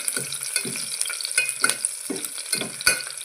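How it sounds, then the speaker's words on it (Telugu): Eggplant pieces fry with browned onions in a pan under a constant hiss, while a spatula stirs in regular scraping strokes about every half second. "బాగా ఎర్రగాయేంత వరకు వేయించాలి."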